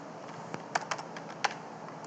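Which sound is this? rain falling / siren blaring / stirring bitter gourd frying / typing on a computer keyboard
typing on a computer keyboard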